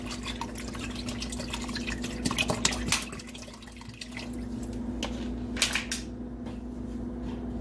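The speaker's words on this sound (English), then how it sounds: "And my 1 16-ounce bottle of water." A 16-ounce bottle of water pours into a cooking pot in soft, close splashes and drips, quiet, with a couple of brief stronger gushes.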